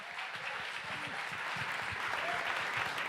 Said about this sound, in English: Big round of applause for everyone who got up here.